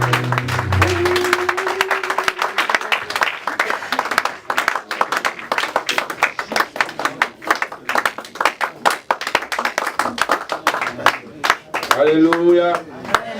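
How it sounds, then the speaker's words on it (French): A church congregation at a gala dinner claps and cheers in sustained, dense applause that carries on for most of the stretch, with voices rising near the end. "Est-ce qu'on peut acclamer le Seigneur?"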